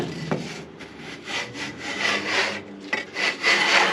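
Surface of a sawn, spiral-cracked oak log being scraped by hand, a run of close, rough rasping strokes in uneven rhythm with short pauses between them.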